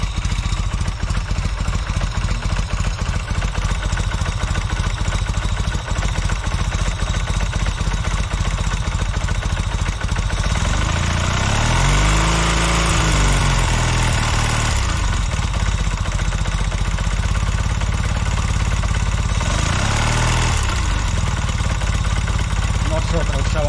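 A newly built Velocette motorcycle engine idles steadily and close, with a dense even ticking beat and a couple of brief revs rising and falling midway, and a voice speaks over it.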